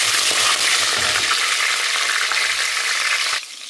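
Grated garlic dropped into hot oil, a loud, dense, close sizzle that holds steady and then drops off abruptly near the end.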